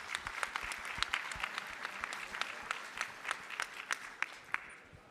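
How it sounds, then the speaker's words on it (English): A conference audience applauds a 15-year-old entrepreneur, steady sustained clapping from many hands in a large hall with sharper individual claps standing out, tapering slightly toward the end. "a special loud applause for a 15-year-old entrepreneur using Alibaba.com to make his dream come true"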